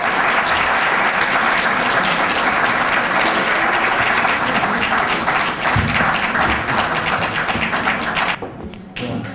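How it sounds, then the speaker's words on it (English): An audience applauds at a tribute event, a dense, sustained wash of clapping that carries on for several seconds before thinning out near the end. "Let's give them a round of applause, please."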